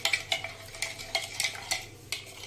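A spoon stirs a creamy fruit chaat mixture in a bowl, giving soft, irregular scraping clicks and taps against the sides at a steady pace, close by with no talking.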